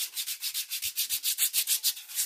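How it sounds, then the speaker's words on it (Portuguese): A foot file rasping over dry, cracked foot skin, about fifteen even back-and-forth strokes in a steady rhythm, close and fairly loud with no talking. "Vocês que têm o pé ressecado ou com rachaduras, né? Você lixa ele seco"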